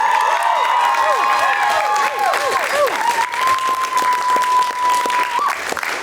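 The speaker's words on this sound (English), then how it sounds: "A round of applause for Brian as well." An audience applauds and cheers for production designer Brian Thomson at a Rocky Horror Picture Show Q&A, with steady clapping and whoops and whistles sweeping over it early on, then a single sustained whistle before it tapers.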